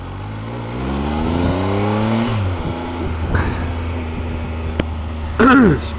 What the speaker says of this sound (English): Spun the back wheel a little bit there on the old leaves and bits.